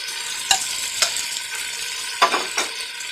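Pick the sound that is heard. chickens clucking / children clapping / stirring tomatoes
stirring tomatoes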